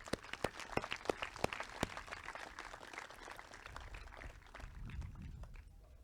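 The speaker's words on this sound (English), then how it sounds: "Another round of applause for Alice." Applause from a graduation audience at a 2020 North Miami ceremony: a few sharp, separate claps open, then scattered, moderately distant clapping carries on under low crowd murmur.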